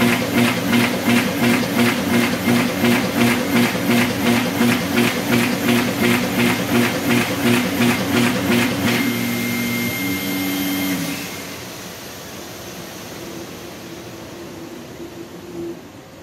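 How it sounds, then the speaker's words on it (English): A Bacciottini OXO Multiskill creaser folder folds sheets in the middle with a fast, regular mechanical clatter and steady whirring hum. The cycling stops after about nine seconds, and a quieter motor drone fades out. "Or now we test, for example, to fold the sheets in the middle."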